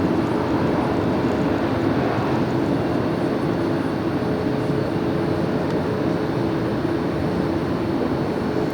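A steady, continuous engine drone from a small propeller plane at LAX fills the whole stretch, loud and close throughout with no talking.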